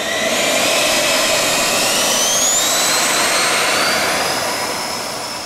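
A 15-pound RC F-14 Super Tomcat model jet flying overhead, its turbine a loud, continuous roaring whine with rising and falling pitch as it maneuvers, fading slightly at the end.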